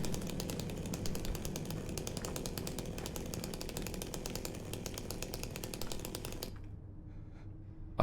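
A chainsaw roars steadily in the Silent Hill 2 Remake video game, a loud continuous motor rattle lasting about six and a half seconds before cutting off into quiet.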